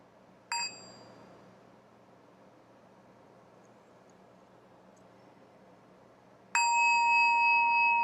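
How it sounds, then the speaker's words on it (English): A meditation bell struck once, a bright ringing tone that sustains steadily over quiet room hiss, following a faint brief earlier chime. "We'll begin with just one sound of the bell."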